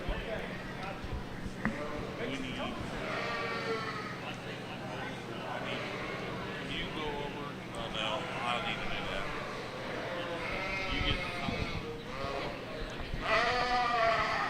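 Border Leicester ewes bleating repeatedly at a youth sheep show, several overlapping calls near and far amid crowd noise and ongoing talk.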